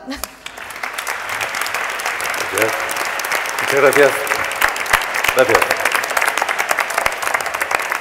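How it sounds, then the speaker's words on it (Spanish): Audience applause welcoming a guest at a round-table event, sustained crowd clapping that builds and continues while someone briefly speaks over it. "Recibamos también con un fuerte aplauso en este encuentro"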